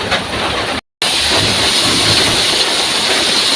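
Cumin paste added to frying onions in a pan on a wood-fired clay stove, a steady loud hissing sizzle broken by a brief silent gap near the start, no voices.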